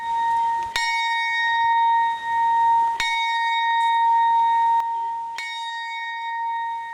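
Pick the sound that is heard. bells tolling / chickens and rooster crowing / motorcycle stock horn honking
bells tolling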